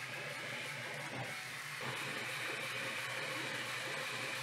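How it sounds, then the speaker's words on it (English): Creality Hi 3D printer running at full speed gives a steady broadband whir and hiss of fans and motion, fairly quiet and continuous with no talk over it. "the printer is working at full speed and you can hear how loud"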